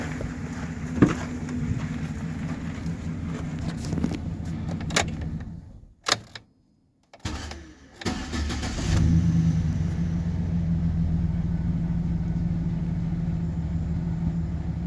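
A 2013 Chevy Silverado with the 4.3 engine runs, cuts out into near silence for about two seconds, then cranks and restarts, settling into a steady idle.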